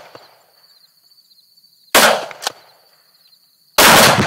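A tannerite target near a bucket in a cornfield is hit by rifle fire and explodes, giving sharp loud blasts: one big bang, a second close report, then another loud blast after a pause, over a quiet outdoor background.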